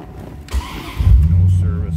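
A 1996 Chevrolet Corvette Collectors Edition convertible engine cranks and catches, settling into a low, rumbling idle after a short burst, close and loud.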